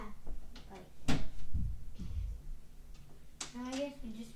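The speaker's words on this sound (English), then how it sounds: "I have to shut the door." A door is pushed shut with a solid thump, surrounded by a few lighter knocks and bumps of handling, while children's voices chatter before and after.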